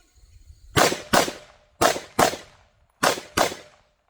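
Six sharp gunshots ring out during firearms training at targets, fired in three quick pairs with short pauses between pairs, each crack loud and close with a short decaying tail.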